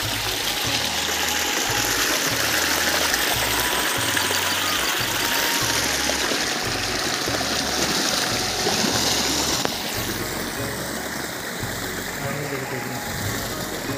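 Water rushes steadily into a farm field channel, a continuous close gurgling flow with a rumbling low hum running throughout.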